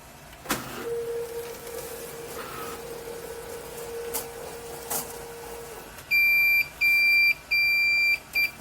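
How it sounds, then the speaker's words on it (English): An Epson F2100 printer's platen draws back inside with a steady motor whine lasting several seconds after a click, followed by a series of loud electronic beeps, close by and with no talk. "I will proceed to press the platen button again to move it back"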